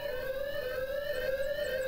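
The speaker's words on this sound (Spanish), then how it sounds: "¿Cuántas alarmas tengo que quitar en tu vida?" Alarm wailing in the stealth game Thief Simulator, a steady electronic siren tone holding level and loud throughout with faint higher chirps near the end and no talking.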